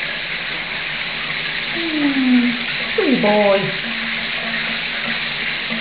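Shower water runs on an eclectus parrot in a steady, close hiss, while a voice speaks gently over it partway through.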